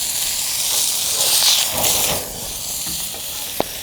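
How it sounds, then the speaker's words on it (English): A steak sears in a hot cast iron pan, giving a loud, steady hiss and sizzle close up, with a brief soft tap near the end. "Now when you do a steak like this and you're not reverse searing it, you're just searing it"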